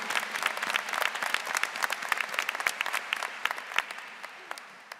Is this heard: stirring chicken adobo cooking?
no